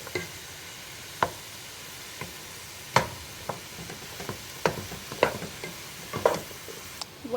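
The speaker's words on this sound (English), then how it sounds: "I'm just gonna take my wooden spatula and I'm just gonna kind of like crush them a little bit so they're not really big" A wooden spatula crushes peas and mushrooms in a pan for a home-style matar mushroom curry, with irregular taps and scrapes over a low background sizzle, close and fairly quiet.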